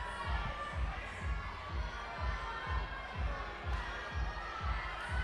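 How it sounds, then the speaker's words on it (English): Crowd noise at a USA Climbing National Cup bouldering competition, Stone Age Yank-N-Yard 2017, a steady hum of distant cheering and shouting in the background behind a regular low thumping beat. "the crowd is still very much behind every single competitor. A lot of cheering."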